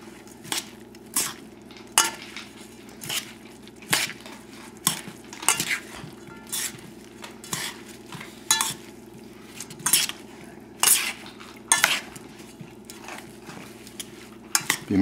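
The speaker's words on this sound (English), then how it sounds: "Now I'm just going to toss the dry ingredients." Dry shredded napa cabbage coleslaw ingredients with carrots and parsley tossed in a bowl, giving a steady run of soft rustling scrapes and light clinks at a regular rhythm, close and fairly quiet with no talking.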